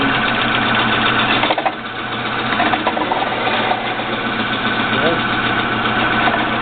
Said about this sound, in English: I'm going to flip the switch here. So, as you can see, the worm gear is turning.